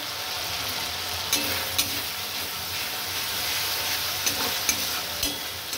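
Masala spices sizzle and fry in hot oil while being stirred, a steady close frying hiss with a few sharper scrapes and pops along the way; no one speaks.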